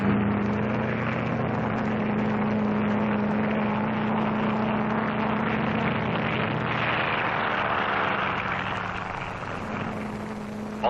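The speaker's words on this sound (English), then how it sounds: "Also taking off from the carrier are control planes that will guide the radio-controlled drone boat." A steady, droning engine of a propeller aircraft taking off from an aircraft carrier, loud and continuous throughout, with a low hum beneath and a slight fade near the end; no voices.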